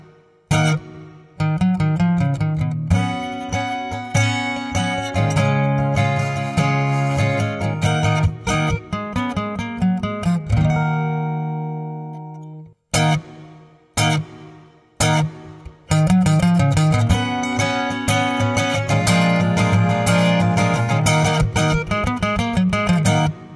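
Acoustic guitar plays the finale of a worship song, loud and continuous with strummed chords and picked notes, a brief pause near the middle, then a full strummed ending, with no voices.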